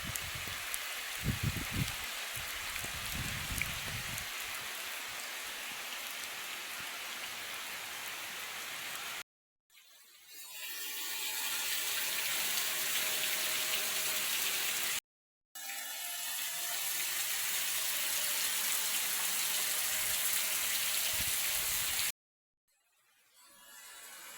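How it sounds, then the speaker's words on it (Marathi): Heavy monsoon rain pours down on a Konkan village in the evening in a dense, steady roar, interrupted by a couple of brief silent breaks before resuming. "पुन्हा एकदा कोकणात मुसळधार पाऊस पडतोय बघू शकता इकडे"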